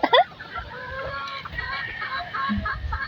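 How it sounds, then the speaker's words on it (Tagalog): Chickens cluck in a farmyard where civets are also kept, with a loud burst of clucking at the start followed by softer, scattered clucks and low background murmur. "Tingnan niyo yung mga manok"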